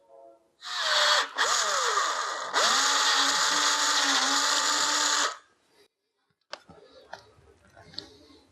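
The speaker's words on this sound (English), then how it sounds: "it's an 1/8" drill you'll use for these snaps" A power drill with a 1/8-inch bit drills holes for snaps on a 1932 Ford roadster hood, whining loudly in two long bursts, running steadily for several seconds, then falls quiet before a few light clicks.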